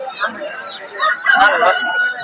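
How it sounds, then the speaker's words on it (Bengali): A 4 kg chicken of an Aseel-type breed at a Bangladeshi poultry market gives short clucks and crowing-like calls, close by, mixed with busy market chatter and people talking. "এটা হচ্ছে 4 কেজি সাইজের একটা মুরগি"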